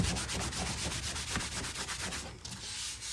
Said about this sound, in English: That's how easy it is to sand.